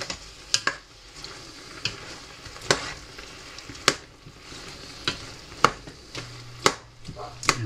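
Food sizzles steadily in a frying pan, browning as it is stirred, with sharp scraping and clinking stir strokes breaking through the frying hiss every second or so, close and fairly loud.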